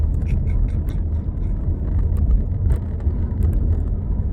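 Steady low road rumble and engine drone fill a car cabin while driving, with faint scattered ticks and no clear talk.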